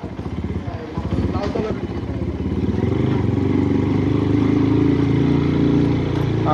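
A Taro GP 1V3 motorcycle engine drones steadily and loudly while riding at low speed, holding a constant throaty hum with a brief voice near the start.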